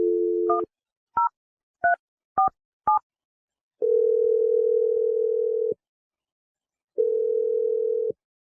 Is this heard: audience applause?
no